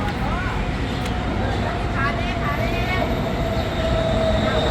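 A BTS Skytrain pulls into an elevated station platform with a steady, loud rumble and rising whine, while people talk excitedly close by over it.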